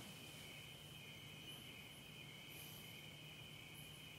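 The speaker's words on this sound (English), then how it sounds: "like the crickets in the background" Crickets chirp in a constant, high, shimmering drone, faint and distant, with no other sounds breaking the steady night ambience.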